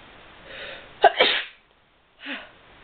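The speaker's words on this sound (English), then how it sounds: "I've got to sneeze." One close, sharp human sneeze with a quick inhaled buildup, followed by a softer breathy exhale after a short pause.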